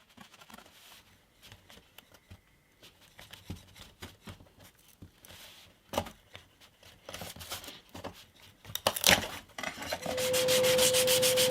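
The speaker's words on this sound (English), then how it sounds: "I've sanded the back and I've sanded the braces, so they're ready to be stuck." Hand sanding on the back and braces of a vintage steel-string guitar: irregular scratchy rubbing strokes with small knocks, building up to a steady louder whirring noise at the end.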